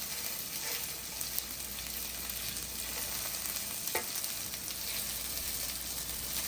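Onions fry on medium heat in a pan, giving a steady, close sizzle throughout with occasional scrapes and clicks as they are stirred; no one speaks.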